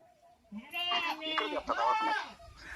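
A single goat lets out a long, wavering bleat close by, rising then trailing off, with little else around.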